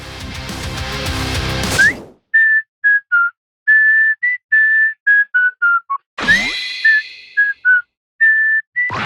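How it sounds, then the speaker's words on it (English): A melodic tune is whistled in short, clear phrases with brief pauses between notes, following a dense burst of music that cuts off. "Whistling and doing a little dance"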